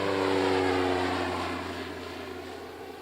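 An outback mail plane with propellers drones steadily overhead, a loud, even engine hum holding for a few seconds and then easing slightly as it passes.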